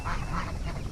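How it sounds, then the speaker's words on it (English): Yard geese on a pasture poultry farm honk loudly in a brief, raspy burst, close by and overlapping. "These yard geese are doing their job, but they are rather loud"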